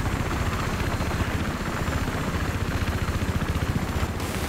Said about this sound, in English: land the chopper at the hotel